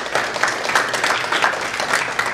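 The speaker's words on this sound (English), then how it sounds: "give yourselves a big round of applause" An audience of assisted living staff at a keynote talk applauds in a steady, dense wash of many hands clapping together, continuous and fairly loud with no speech over it.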